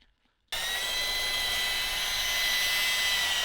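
A power drill whirs steadily after a half-second of near silence, with a high grinding, sanding texture as it sands a scratched headlight lens.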